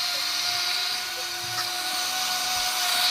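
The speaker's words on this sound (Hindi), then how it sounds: "तो अभी मैं ग्राइंड करूँगी, मतलब ग्राइंडर में मतलब जूस बनाऊँगी।" Kitchen mixer grinder blending amla, chilli, coriander and salt into juice, a steady loud motor whine running throughout with no pauses and no talking.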